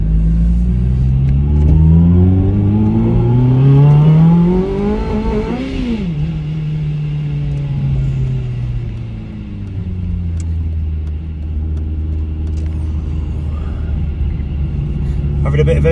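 Supercharged Honda Civic FN2 pulling hard in second gear, its engine note climbing steadily then dropping after a shift and building again, loud and close from inside the cabin, with someone talking over it.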